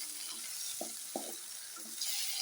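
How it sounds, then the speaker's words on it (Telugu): Okra fries in a pan with green chillies, a continuous loud hiss of hot oil broken by a few short scraping stirs, with no talking. "తర్వాత బెండకాయలు వేసి వేపాలి"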